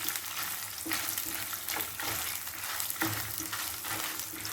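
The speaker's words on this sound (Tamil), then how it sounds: "எல்லா பொருளையும் நல்லா பொன்னிறமாக வறுத்து எடுத்துட்டு பொடி பண்ணிக்க வேண்டியதுதான்" Spices roasting in a little oil in a pan, for a sambar powder: continuous soft sizzle with intermittent stirring scrapes, moderately quiet and close, no talking.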